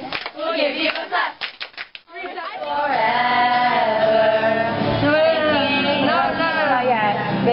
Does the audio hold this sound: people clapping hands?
yes